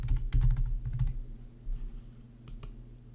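Computer keyboard typing close up, a quick burst of clattering keystrokes followed by a few scattered clicks as sign-in details are entered into Mendeley reference software.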